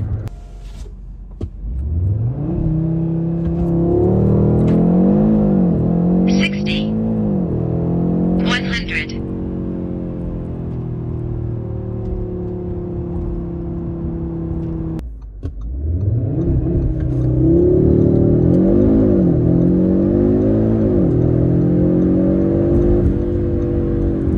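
2022 Audi RS3 sedan with a 400 hp five-cylinder engine accelerating hard from inside the cabin, rising engine note through gears with shift breaks, then a second full-throttle run, loud, with a voice talking over it.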